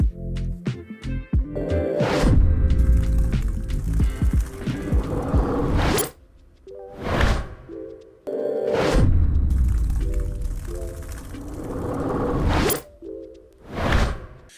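Booming explosion effects with shattering debris and whooshes, a loud blast sequence that cuts out and then repeats.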